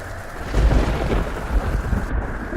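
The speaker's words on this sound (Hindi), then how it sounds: "कैसा तूफान हो रहा है। ऐसा तूफान पहले कभी नहीं देखा।" Heavy pre-monsoon Kal Baisakhi thunderstorm with steady, dense rain and deep rolling thunder rumbling throughout, loud and continuous, with no voices.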